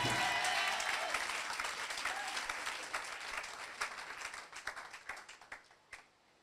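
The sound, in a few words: church congregation applauding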